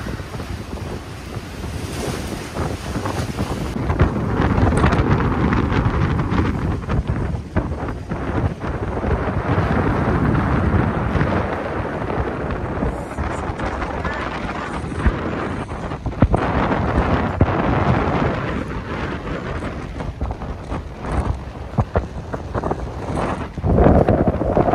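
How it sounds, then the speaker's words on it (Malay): A violent storm hits a kelong fishing platform at sea off Umbai, Melaka, with loud, roaring gusts buffeting the microphone and surging waves crashing throughout, steady and relentless with occasional sharper bursts. "Mancing di Kelong kena ribut."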